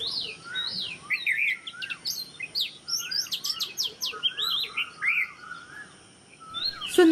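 A red-whiskered bulbul gives a run of bright, chirpy whistled calls from near a window, in quick irregular bursts with short pauses, against a quiet outdoor background.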